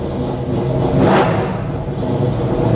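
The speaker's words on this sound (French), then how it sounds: "On l'entend tout de suite que c'est un moteur qui a des watts." A modified car engine revs hard in one short surge that climbs and falls back, loud and close, with a rough, gravelly exhaust note throughout.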